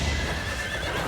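Horses neigh and whinny with the clatter of hooves during a cavalry battle in Fire Emblem: Three Houses, a steady, close, busy mix of game sound with no talk.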